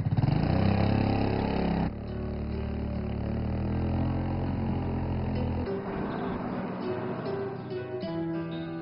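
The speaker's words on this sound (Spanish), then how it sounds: "Esta motocicleta de segunda mano es el principal medio de transporte de Eric en Beijing" A second-hand motorcycle used for getting around Beijing runs with a steady mid-pitched engine drone, shifting tone a couple of times as the revs change, fairly close and without talk.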